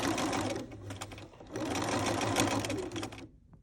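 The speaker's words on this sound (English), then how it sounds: "Stitch the opening closed by machine or by hand." A sewing machine stitching fabric for a child's skirt, running in a steady, close, loud whir with a brief pause midway before resuming and then stopping.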